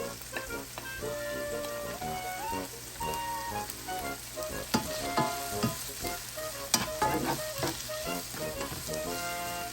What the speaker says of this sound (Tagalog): I just like mix it well.